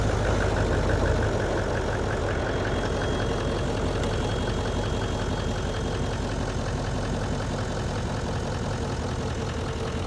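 Cummins diesel engine in a Nissan Titan pickup idling under the open hood, a steady, close, loud clattering rumble that holds even throughout, with no voices.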